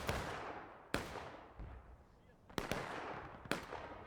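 Sharp, distant cannon and musket reports crack out one after another on a Civil War–era battlefield in War of Rights, several separate booms with echoing tails spread over a few seconds, with voices talking faintly between shots.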